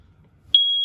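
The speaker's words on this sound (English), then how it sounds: "Right above your heads here, we've got your fire alarm." After a faint low rumble, a single high electronic beep sounds from a smoke alarm in a 2022 Tracer 190RBSLE travel trailer, clear and steady for about a third of a second.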